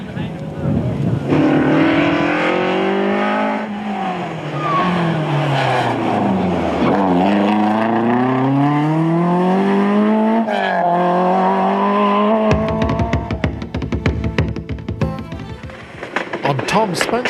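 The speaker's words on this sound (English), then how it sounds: "Armstrong and Podge New win Class 11A in their Mark II Escort in the usual sideways style" A Mark II Ford Escort rally car driven sideways on a 1998 Sligo Stages Rally stage, its engine revving loudly up and down through the gears, close and dominant, before the clip ends in a rough, gravelly rumble.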